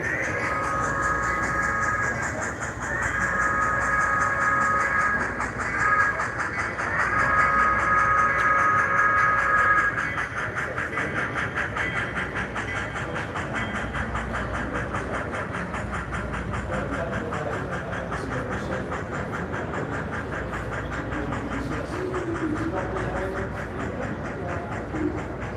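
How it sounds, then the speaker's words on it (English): An HOn3 narrow gauge model mixed train runs on the Ophir Loop layout at a National Narrow Gauge Convention. It makes a continuous soft rolling rumble with faint rhythmic clicking, and thin whistle-like tones sound in the first seconds. "Great to have a mixed train."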